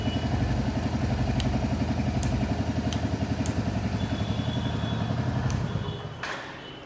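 A Royal Enfield Hunter 350 single-cylinder engine idles close by with a steady, even thumping pulse. A few light clicks sound over it before the engine is switched off and the rumble fades out.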